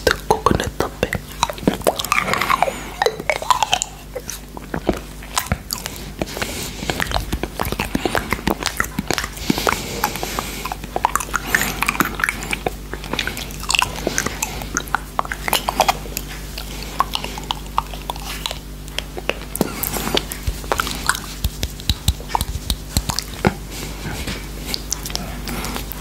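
Close, crunchy chewing of coconut yoghurt topped with rough yellow coconut pieces, candy and biscuit bits, with dense bites and mouth sounds running steadily throughout and no voice over them.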